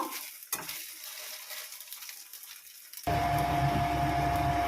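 Idli pieces frying in a pan: quiet at first with a faint clink, then a sudden steady, close sizzle of hot oil that continues to the end.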